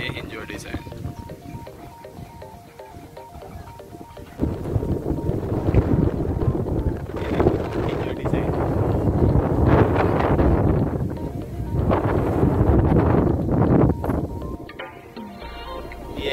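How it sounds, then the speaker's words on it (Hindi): Strong wind at a high viewpoint overlooking the Hinjewadi area near Pune, buffeting the microphone in heavy low rumbling gusts that build after a few seconds and keep surging, with talk faintly under it at times. "यहाँ पे तेज हवा चल रही है"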